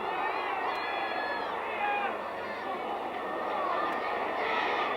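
A crowd of football supporters at a Burnley match in the 1991/92 season roars on as the home side attacks, a constant dense wash of noise with a commentator's voice running over it.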